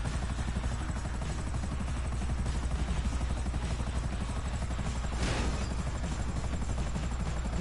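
A helicopter's steady rotor thrum and engine roar fill the scene in GTA Online, loud and continuous with a brief whooshing swell partway through.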